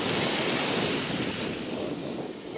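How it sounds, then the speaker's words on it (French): Sea waves roll onto a beach of wet sand in a steady, close surf roar, with wind buffeting the microphone and no voices. "Les vagues sont là."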